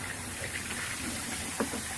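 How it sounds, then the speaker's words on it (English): Dirty water from soaking black walnuts is poured out in a faint, continuous splashing gush that stays alone and close throughout. "Pour out some of the dirty water."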